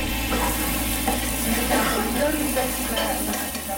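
Steady sizzling and frying of a Spanish omelette in a pan with occasional stirring and scraping, loud and close, continuous throughout with no talking.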